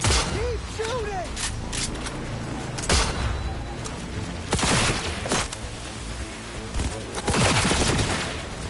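Heavy gunfire from the video game Cyberpunk 2077: repeated bursts and volleys of shots with booming impacts, loud and dense throughout, with voices talking over the battle.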